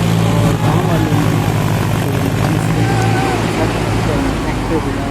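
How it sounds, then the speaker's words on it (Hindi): Two new tractors strain to pull a stuck tractor trolley free in a village sugarcane field, a loud, continuous engine drone throughout with a heavy low-frequency rumble, people talking over it. "हाँ, ट्रैक्टर ट्रॉला फंस चुका है और गाँव वालों ने"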